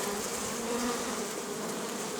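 Honeybees and light-coloured drones crawl over a hive frame with brood after a cold snap, a dense, close, continuous buzzing hum with no voices.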